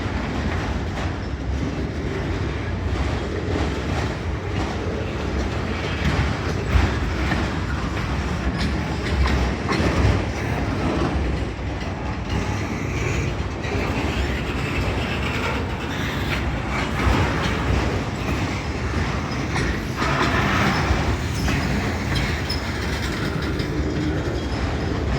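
A long train of rail cars pulled by CSX locomotives rolls past nearby, a continuous loud rumble with steady clickety-clack of wheels over rail joints and a faint squeal of wheels now and then, with no voices.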